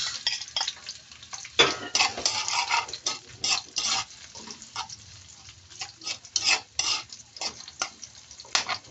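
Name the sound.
onions frying in hot oil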